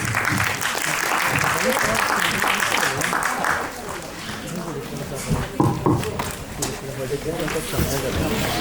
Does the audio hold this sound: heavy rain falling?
no